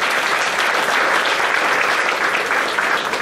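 A church congregation claps steadily and densely, a loud, continuous wash of applause with no voices standing out.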